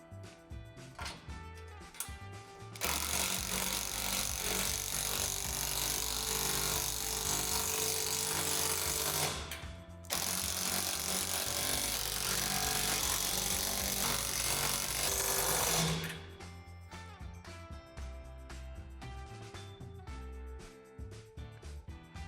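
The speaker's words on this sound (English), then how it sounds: "Now tighten all the hardware on the middle joints." Power tool driving hardware tight on the middle joints of a Lifetime climbing tower with slide: a steady, loud whir holds for several seconds, cuts out briefly, then runs again, with quieter clicks and handling noise before and after.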